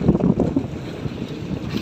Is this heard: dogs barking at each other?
no